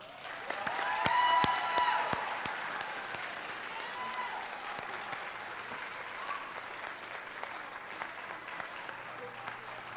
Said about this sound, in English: please help me congratulate this year's Superintendent's honoree, Mrs. Danielle Grismala.